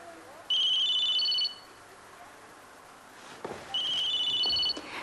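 An electronic telephone ringtone trills twice in a quiet room, each ring a bright warbling burst lasting about a second, with a soft rustle between rings.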